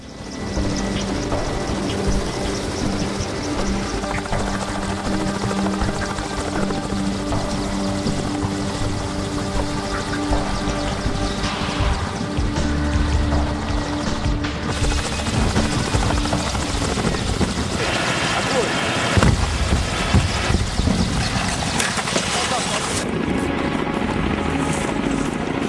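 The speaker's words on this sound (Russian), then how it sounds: "Вертолет перед взрывом обязательно взлетает." A helicopter lifts off at an Arctic seismic survey site in 2007, its loud rotor thrum and turbine whine running continuously, close, with the pitch and texture shifting as it climbs.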